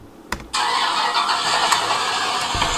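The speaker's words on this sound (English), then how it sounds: "Okay, we got some cars starting up in here." Car engines starting up indoors: a brief crank and click, then an engine catching at about half a second and running steadily loud and broadband, with no talk over it.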